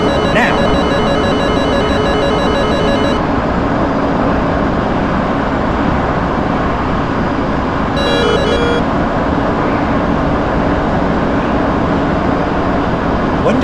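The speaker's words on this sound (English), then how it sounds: "When the radar warning disappears," Warning tones from a radar missile alert in the DCS flight simulator, steady beeping bursts that sit over a dense, loud jet engine roar, with a second brief burst of tones partway through.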